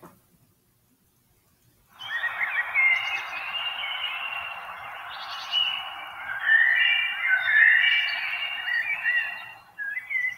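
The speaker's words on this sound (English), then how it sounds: "Birds." Birds call and sing steadily after two seconds of silence, a busy stream of bright chirps and warbling phrases that rise and fall, clear and moderately near, with no voices over them.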